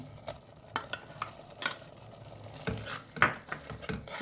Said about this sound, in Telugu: బాగా ఫ్రై కావాలి, ఒక 2 మినిట్స్ ఫ్రై కానీ అమ్మా